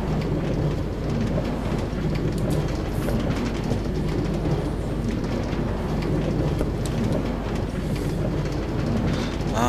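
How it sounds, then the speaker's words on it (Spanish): Minecart wheels rolling on rails in Minecraft, a steady continuous rumble with a faint clicking clatter that holds at an even level throughout, with no talk over it. "Y le cambiaron el sonido de los rieles"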